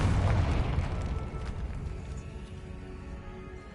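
A Confringo fire spell bursts in Hogwarts Legacy with a heavy low boom at the start, then a rumbling, crackling tail that fades gradually over a few seconds, close and loud.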